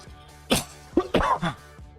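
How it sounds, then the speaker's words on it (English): A person coughs a few times in quick succession during a Minecraft SMP gaming session, short harsh bursts close to the microphone. "I coughed."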